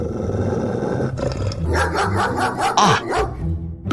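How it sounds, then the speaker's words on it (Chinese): A large dog roars, growls and barks in bursts through the middle of a cartoon-style scene, loud and close, with a brief exclamation at the start. "那狗听起来很狂野"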